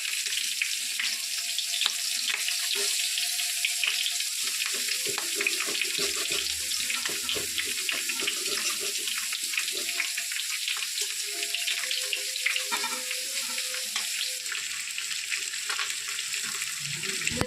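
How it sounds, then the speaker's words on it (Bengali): Pangas fish frying in a wok for a Bengali fish curry, giving a steady broadband sizzle and crackle that runs throughout with small spits and pops, close and continuous, with no talking. "এবার আমি মাছটাকে ভালোভাবে ভেজে নিচ্ছি।"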